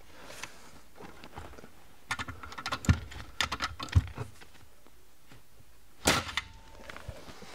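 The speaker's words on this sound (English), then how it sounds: "And then with the nail gun, I'm just gonna drive it in." Nail gun driving nails into wall framing, heard as scattered sharp close pops and clacks in small bursts, with a quiet stretch before one final strong impact, and no talking over it.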